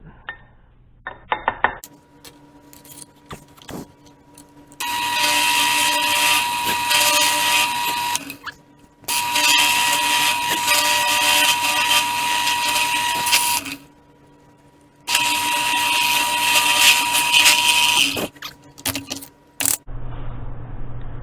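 A power tool cleans up a freshly cut edge on a motorized bicycle build fitted with an MS460 chainsaw engine, running in three long loud whining bursts broken by pauses and clanks of handling, close by with no talking.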